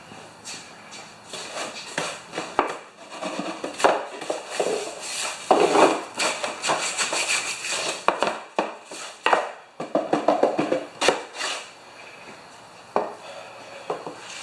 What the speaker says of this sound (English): I'm going to sweep this onto the floor.